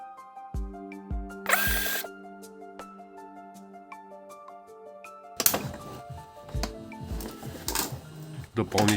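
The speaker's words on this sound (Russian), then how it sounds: "Откручиваем." Screws being unscrewed from a Philips vacuum cleaner during repair, with a cordless electric screwdriver whirring in short bursts and then a longer, denser run of whirring and clicking handling noise near the microphone.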